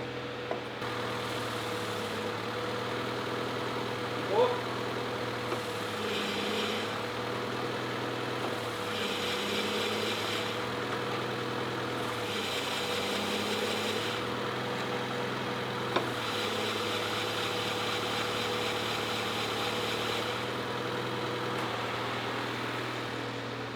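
A Honda Integra DC2 Type R engine idles steadily with a constant low hum and mechanical whir, holding an even note at close range over about twenty seconds without any voices.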